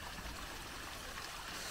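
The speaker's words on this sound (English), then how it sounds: "some water coming down" Water from a culvert diversion runs steadily through a channel, a continuous rushing stream sound heard nearby without talk.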